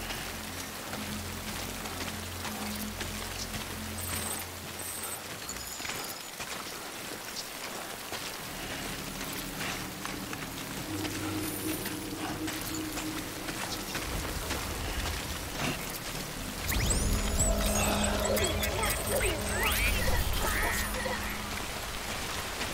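Timefall rain in the Death Stranding video game, a long steady wash of rainfall pattering on surfaces, with a low rumbling swell and scattered faint electronic tones toward the end, no voices.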